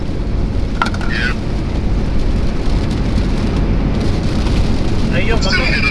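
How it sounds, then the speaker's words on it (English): Steady heavy rain falls outdoors near trailers, a loud continuous hiss throughout, with brief faint voices or chirps near the start and end. "Now you want to rain?"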